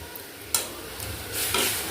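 Dal tipped into hot oil in a home kitchen pan, giving a sudden loud sizzle that keeps frying steadily while a spoon stirs, with a second surge of hissing partway through.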